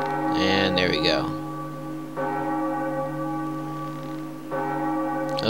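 A loud bell rings in Zelda Wind Waker HD, struck three times with long, shimmering metallic tones that sustain and overlap, the first strike tangled with brief game effects before the ringing settles into steady resonant tolls.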